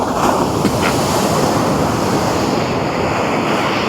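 Steady roar of sea waves breaking on Poonthura beach during morning shore-seine fishing, broad and continuous, with wind buffeting the microphone throughout.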